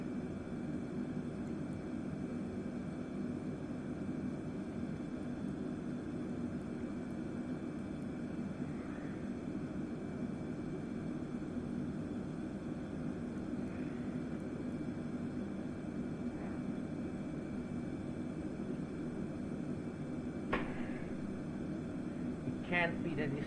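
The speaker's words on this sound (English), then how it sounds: "Takeoff, climb thrust." An airliner in Microsoft Flight Simulator taking off at climb thrust, a steady even engine roar held throughout with a few faint clicks, while a person talks over it.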